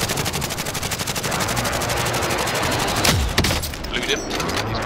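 Automatic gunfire in the video game Call of Duty, rapid loud bursts in a steady rhythm and then heavier impacts, with a player's voice talking over the shooting.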